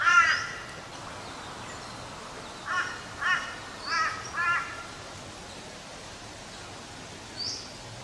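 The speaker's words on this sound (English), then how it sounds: "Bird life is terrific." Crows cawing in bush near mountain resort cabins, a loud call at first and then a run of four hoarse caws, somewhat distant, with one more faint call after a pause over quiet outdoor ambience.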